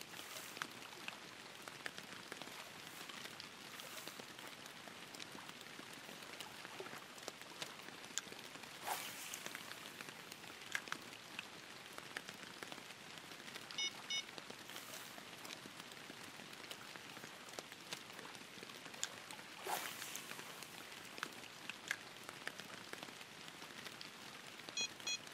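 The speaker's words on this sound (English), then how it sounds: "It's still raining." Steady rain falls in the fishing video game Fishing Planet, a constant soft hiss with dense patter and a few louder gusts, with no talking.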